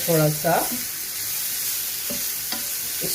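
Golden fried onions sautéing with liver masala in a pan, a continuous soft sizzle with light stirring clinks, moderate in level, with a brief bit of talk at the start.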